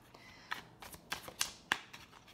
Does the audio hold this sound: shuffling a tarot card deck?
yes